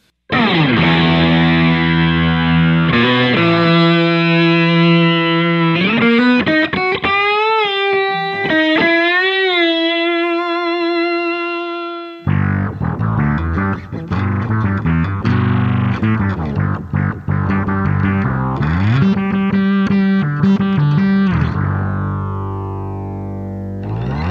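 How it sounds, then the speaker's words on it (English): An electric guitar runs through a synthy multiwave distortion effect, giving loud, harmonic-rich, buzzy notes and chords with bends and sustained tones that play continuously for the whole stretch, with no talking. "it creates harmonics and a sound from your guitar that is much different sounding than other distortion"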